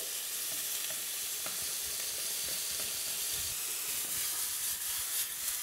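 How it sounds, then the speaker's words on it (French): Salmon medallion pieces frying in a pan, an even hiss and gentle crackle of searing fish that holds steady for several seconds, with no one talking. "je viens déstructurer mon médaillon afin d'accélérer la cuisson"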